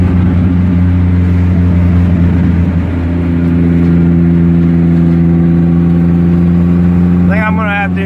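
A turbocharged Hyundai Tiburon's engine runs at a steady loud hum with strong low harmonics, easing slightly partway through, close up with no speech.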